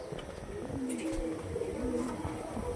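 Kalanka-line pigeons kept for sale give soft, low, rolling coos in a faint continuous murmur over a hissy background, with a few brief higher chirps.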